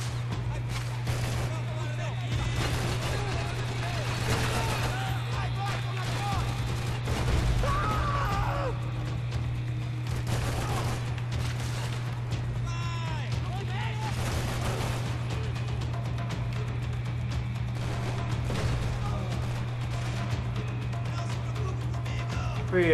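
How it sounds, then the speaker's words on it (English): Gunfire in the video game Max Payne 3 comes as scattered sharp shots and short bursts, some close and loud, mixed with game effects under frequent talking. "Who is shooting at me for?"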